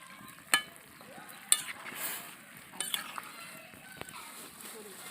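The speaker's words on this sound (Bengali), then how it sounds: "এই যে মটরশুঁটিগুলো হালকা করে সিদ্ধ করে নেবো। দিয়ে আমি একটু ঘেঁটে দেবো।" A spoon stirs lightly boiled peas in a pot while chow mein is being made, giving soft scraping and a few sharp clinks against the metal, faint and intermittent.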